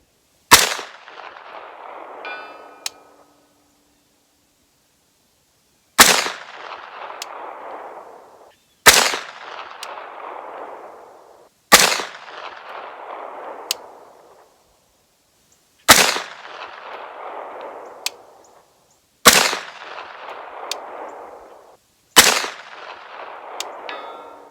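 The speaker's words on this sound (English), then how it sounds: "Now that I know where it's shooting, I want to try again." A SAR 109T 9mm pistol fires seven sharp, loud shots at a range, spaced a few seconds apart, each crack followed by a short ringing echo that dies away before the next.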